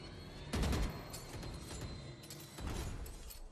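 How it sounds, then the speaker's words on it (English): Bursts of gunfire in the Valorant video game during a professional VCT Champions match, two heavier volleys over a steady rumbling game background, with no voices. "Still sending out a couple of warning shots."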